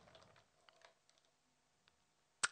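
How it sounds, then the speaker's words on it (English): A few soft keystrokes on a computer keyboard as a command is typed, sparse and close, ending in one sharper, louder key press. "So let's go ahead and type in yum install httpd."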